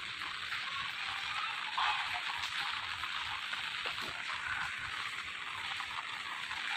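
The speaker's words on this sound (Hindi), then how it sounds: "क्या बारिश है यार, मस्त मस्त नज़ारा है" Heavy monsoon rain in Pune with flowing water, a dense, steady hiss of downpour and running water, continuous and even throughout, with no voices over it.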